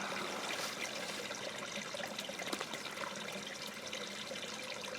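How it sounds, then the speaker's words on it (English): A small creek trickles and burbles beside a snowy back step, a continuous close wash of flowing water with small splashing bursts, steady in level and heard alone. "just next to this little creek, river, whatever you want to call it. The water trickling"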